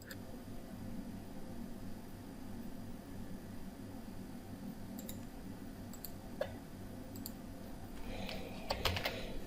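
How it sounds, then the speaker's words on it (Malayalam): Typing on a computer keyboard to enter a YouTube link, a soft steady patter of key clicks over a constant background hiss, with a few sharper clicks near the end. "യൂട്യൂബിലെ ഒരു വീഡിയോയുടെ ലിങ്ക് ടൈപ്പ് ചെയ്തു, പേസ്റ്റ് ചെയ്ത് കൊടുത്തു"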